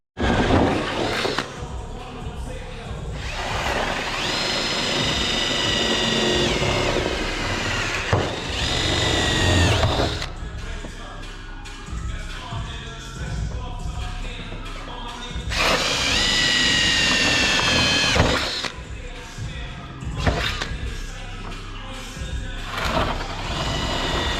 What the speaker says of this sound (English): Actually, let's put the rivets in there.